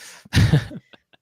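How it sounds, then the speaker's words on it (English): A single short cough bursts out close to the mic, with a throaty, rough quality, followed by a few faint trailing breaths and small sounds before quiet. "You make me cough."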